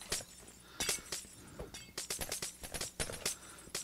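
Piglins shattering like breaking glass in the Minecraft video game: a rapid, irregular string of sharp crashes and clinks, fairly loud and alone.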